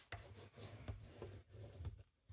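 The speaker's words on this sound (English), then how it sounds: "burnish that down" A fabric ribbon bellyband is burnished down by hand in close, quiet, rhythmic rubbing strokes, about five passes with short pauses between them.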